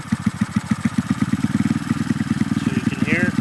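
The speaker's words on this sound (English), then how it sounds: "So you can hear it's idling different now" A motorcycle engine idles after its ignition timing has been advanced, a steady rapid low-pitched thumping pulse that carries on close up throughout, with a brief higher whine near the end.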